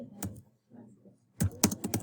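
Close, quiet keystrokes on a computer keyboard in two short bursts separated by a pause, with faint speech-like murmur in between.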